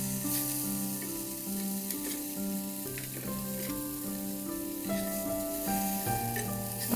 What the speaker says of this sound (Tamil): திருப்பி போட்டு நல்லா ஃப்ரை ஆகி வரட்டும்.